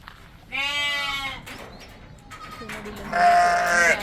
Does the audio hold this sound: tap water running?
no